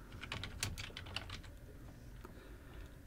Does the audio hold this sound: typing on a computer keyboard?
yes